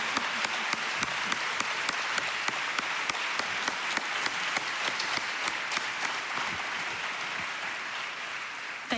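Sustained audience applause after a presentation, a dense, even roar of many clapping hands with crisp individual claps standing out, holding steady throughout.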